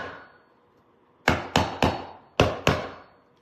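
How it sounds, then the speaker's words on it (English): A small hammer taps five times on top of a DIY decor piece: sharp, close knocks in two uneven groups of three and two, each with a short ringing decay, after a quiet stretch. "Little hammer, tap on top."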